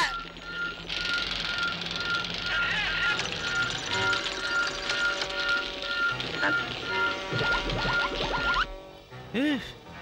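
Cartoon weather machine pouring rain in a Smurfs scene, a steady hissing downpour filling the whole stretch with whistling tones and musical effects layered over it, before cutting off near the end.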